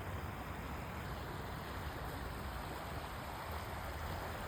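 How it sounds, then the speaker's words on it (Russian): A waterfall on a spring-flooded river in an open field gives a continuous broadband roar of rushing water, steady and loud throughout with no talk. "А вот водопад."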